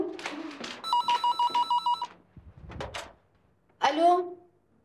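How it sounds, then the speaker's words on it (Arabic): An indoor telephone bell rings in a rapid series of short, even bursts, with voices speaking before and after and a brief thump between. "بعدي بعدي لشوف من عم يدق التليفون."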